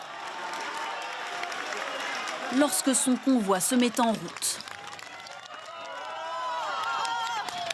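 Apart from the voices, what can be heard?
crowd cheering as Sarkozy's convoy leaves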